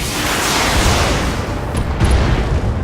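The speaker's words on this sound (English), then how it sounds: "if I'm able to kill this turret in one volley" Weapons volley from a mech fired at a turret in the Battletech game, a dense sustained barrage of booming blasts and rumbling impacts, loud and continuous with a couple of sharper hits near the end.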